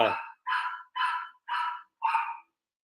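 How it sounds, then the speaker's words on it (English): A dog barks five times in a steady, evenly spaced series, each bark loud and close with a short gap before the next, with no talk over it. "Bark."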